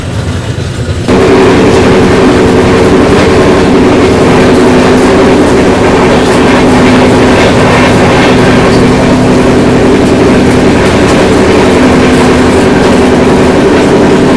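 The Visakha Express, running from Bhubaneswar to Secunderabad, rumbles loud and close near Kaikaluru railway station, a heavy continuous roar with a steady engine drone that starts abruptly after a quieter first second.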